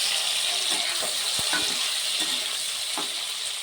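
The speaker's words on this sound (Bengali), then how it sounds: "ভাজা হতে থাক।" Small tangra fish frying in hot oil in a pan on a gas stove, a steady bright sizzle with a few soft clicks and stirring knocks, close and alone.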